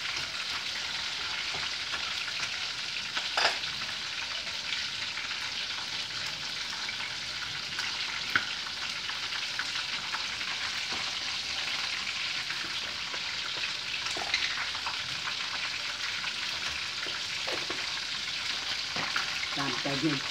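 Chicken fries in a pan, a steady close sizzle and crackle running continuously with occasional louder pops and stirring sounds, no talk over it.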